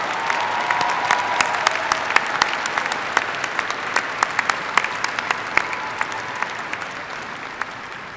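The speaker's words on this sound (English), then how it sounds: "let's applaud these fabulous people." Sustained applause from a large commencement ceremony audience, a dense steady wash of many hands clapping with scattered louder claps throughout, fairly even in level for the whole stretch.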